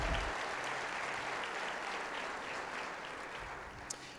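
A church congregation applauds at a service, a steady wash of clapping that is fairly quiet and distant and tapers off gradually.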